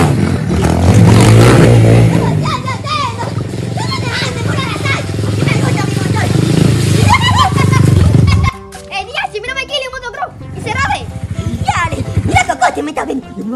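A motocross motorcycle engine roars and revs loudly while someone talks over it; the engine cuts off partway and only speech continues.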